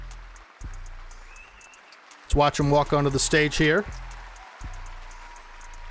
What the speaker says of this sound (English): Hear all the claps in the background.